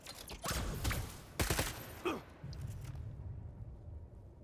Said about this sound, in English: So we'll shoot him with both pistols here.